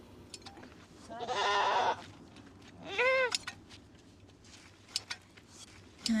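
A goat bleats twice at a desert homestay, a long wavering cry followed by a shorter rising one, close and clear over a quiet background with a few faint clicks.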